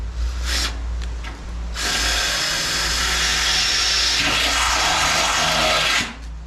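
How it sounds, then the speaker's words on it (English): A power drill whirs steadily for several seconds, boring a hole through a feeder lid near the handle with a grinding, scraping tone, then stops; brief revving before it starts. "we're going to drill a little hole here in the ear"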